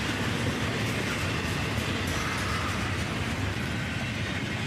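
A CSX freight train rolls past with a rebuilt mid-train DPU locomotive, making a steady, loud, close broadband rumble and roar of wheels and cars that holds without a break.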